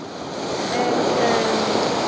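Sea waves wash onto a beach in Malta, a steady broadband surf roar that swells gently and stays close and continuous, with no voices over it.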